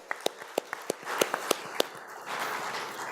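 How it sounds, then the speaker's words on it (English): Applause from a summit audience after a keynote introduction, heard as a burst of scattered sharp claps that thickens into a steadier wash of clapping over about three seconds, moderately distant in a large hall. "please let me join again in giving him a big applause"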